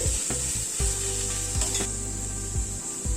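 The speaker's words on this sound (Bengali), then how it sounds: "সবগুলো দিয়ে একটু নাড়াচাড়া করে নিচ্ছি পেঁয়াজের সাথে" Onions being stirred in a pan with chili powder and coriander powder: repeated scraping strokes against the pan in an uneven rhythm, over a steady sizzle, close and clear with no talking.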